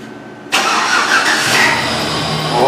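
A cold Chevy/GMC truck engine with a lean-running condition cranks and catches abruptly after a brief quiet moment, then settles into a loud, steady rumbling idle close by.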